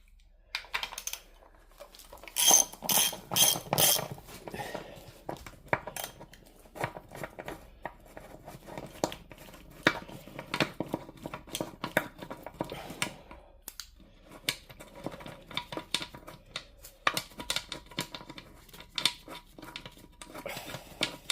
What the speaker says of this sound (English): I'm going to take this rocker cover off and out.